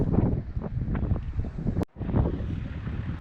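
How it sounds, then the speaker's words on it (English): Strong gale-force wind buffets the microphone on a coastal off-road trail near the sea, a loud continuous roaring rush with gusty swells and a brief dropout partway through. "The wind was blowing a gale"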